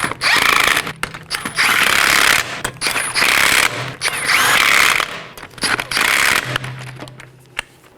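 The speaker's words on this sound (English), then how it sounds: "Now I'm going to snug these down in a crisscross pattern." Ratchet snugging 19mm lug nuts in a crisscross pattern on a 2018-2024 Chevrolet Equinox 1.5L, loud close bursts of rapid clicking and whirring separated by short pauses and metallic clanks.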